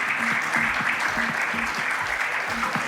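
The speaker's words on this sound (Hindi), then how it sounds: "जोरदार तालियां इनके लिए भी हो जाए।" Dense, steady applause fills a hall at a corporate award night in Surat as an award recipient is honored, many hands clapping loudly and continuously with a faint repeating tonal pattern underneath.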